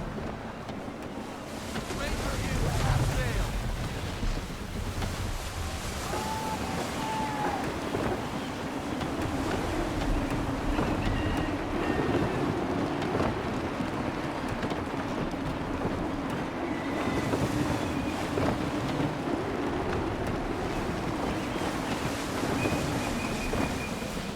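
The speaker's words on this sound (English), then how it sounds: "Gusty winds can be difficult to manage." Gusty sea wind rushes steadily past a sailing ship in Assassin's Creed 3, a continuous broad roar with surging swells of wave and hull noise, brief tonal whistles now and then, and no voices.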